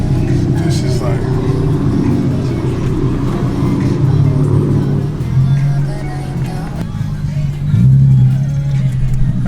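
An untuned, factory-state Nissan 370Z with a single exit exhaust revs and idles nearby, engine tone rising and falling while a person talks over it.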